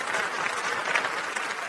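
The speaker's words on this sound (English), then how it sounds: "Round of applause to the Rob father." Applause from a small group, a dense, steady patter of clapping that stays loud and close throughout the brief burst.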